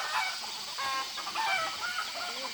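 Chickens clucking in a rural Vietnamese farmyard, a cluster of short overlapping calls of moderate loudness, with no voices.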